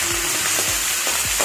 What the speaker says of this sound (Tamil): இந்த இஞ்சி பூண்டு பேஸ்ட்டோட பச்சை வாடை போகிற வரைக்கும் கொஞ்சம் வதங்க வைக்கும்.